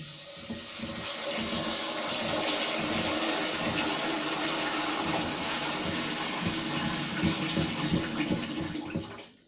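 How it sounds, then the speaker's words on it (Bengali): Rice being washed in water in a home kitchen, a steady rushing and sloshing of running water continuing for several seconds with small splashing surges, close and fairly loud, with no talking. "এখন চালটা ধুয়ে নিতে হবে।"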